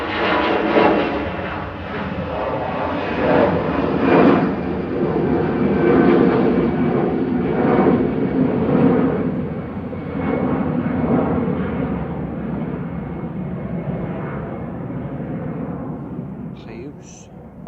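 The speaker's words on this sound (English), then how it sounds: "Departing first though here on runway 23 right is EasyJet to Reus" An EasyJet jet airliner departs runway 23 right at Manchester Airport, its broad engine roar steady and loud throughout before easing off at the end.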